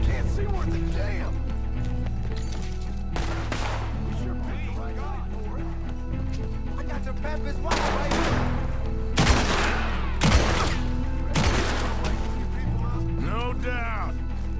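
A gunfight in Red Dead Redemption 2, with scattered loud gunshots and sharp cracks over a continuous backdrop of game music and ambience, while characters talk intermittently throughout.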